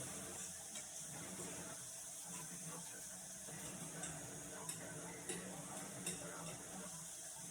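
Vegetables with carrots, Alfredo sauce and pasta sauté in a pan, a quiet continuous sizzle with occasional stirring clinks and taps of a utensil against the pan, without talking.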